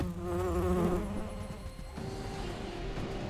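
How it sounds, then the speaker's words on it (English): A mosquito in the card game The Bazaar gives a close, wavering insect buzz that swells and then fades, with no speech. "it's just mosquito."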